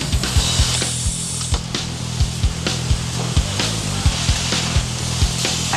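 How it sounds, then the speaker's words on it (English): An air compressor overinflates a football to 120 pounds of pressure, giving a loud, steady mechanical roar with a rapid, regular thumping pulse running through it, close and alone. "Overinflating the ball with a whopping 120 pounds of pressure tightens the laces and smooths out the"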